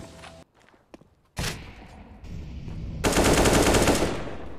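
Rapid bursts of automatic gunfire rattle close and loud in a competitive online shooter match, preceded by a few scattered thumps and footsteps, with no talking.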